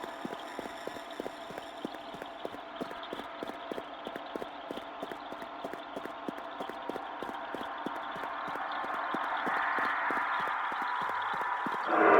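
Horse hooves clip-clop in a steady, rapid rhythm in the Akuma Kira video game, moderately close and continuous throughout, over a constant ambient background that swells toward the end.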